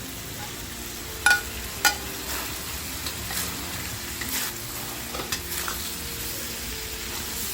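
Soy sauce prawns with spring onion stir-fry in a pan, producing a steady sizzle broken by a few sharp scrapes and clatters of the spatula, with no talking.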